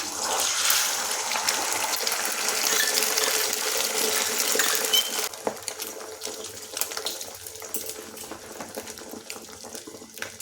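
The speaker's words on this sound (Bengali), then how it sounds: "আর ডিম ফেটাতে ফেটাতে তেলটাও গরম হয়ে গেছে এখন এই ডিমটা তেলের মধ্যে দিয়ে দিচ্ছি" Beaten egg is poured into hot oil in a pan. A loud, dense sizzle fills the first half, then fades into softer crackling and spitting, close and with no talking.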